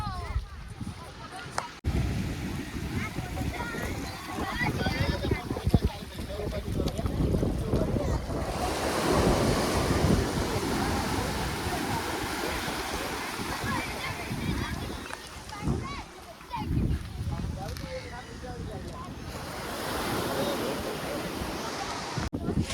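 Sea waves wash onto the beach at Porbandar Chowpatty in a continuous roar with gusty wind buffeting the microphone, swelling louder mid-way, while people talk nearby at times.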